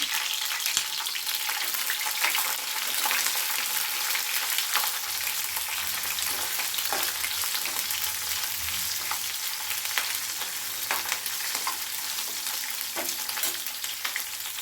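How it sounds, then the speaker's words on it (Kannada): Dry red chilies and green chilies fry in a pan, giving a steady, close crackling sizzle with frequent popping spits and occasional stirring scrapes, with no talk. "ಈಗ ಅದೇ ಬಾಣಲಿಗೆ ಒಣಮೆಣಸಿನ್ಕಾಯಿ ಮತ್ತು ಹಸಿಮೆಣಸಿನ್ಕಾಯಿನ ಹಾಕಿ ಚೆನ್ನಾಗಿ ಫ್ರೈ ಮಾಡ್ಕೊಳ್ಳೋಣ"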